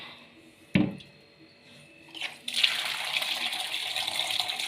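A knock sounds first, then a small amount of water splashes into a pot of chopped drumstick stems and pours steadily and close until the end, with no talking.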